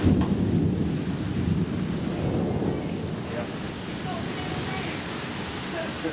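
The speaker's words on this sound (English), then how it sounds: "we got rain everywhere." Heavy rain pours down during a thunderstorm on the day of the Tennessee tornado, a dense close hiss of falling water with low thunder rumbling beneath, and a faint voice now and then.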